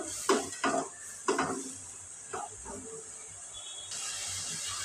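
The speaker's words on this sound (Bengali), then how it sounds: "দিয়ে ভালোভাবে মশলাটা কষিয়ে নিব" Spice mix being stirred and sautéed in a pan, with several scraping, clattering strokes of a spoon against the pan early on over a steady sizzling hiss that grows louder near the end.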